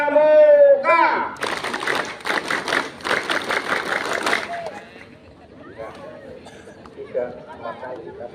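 Scouts at a Pramuka anniversary ceremony at a junior high school beat out the rhythmic Tepuk Pramuka clap together, a dense, patterned burst of group clapping lasting a few seconds after a brief spoken call, then fading into murmuring crowd noise.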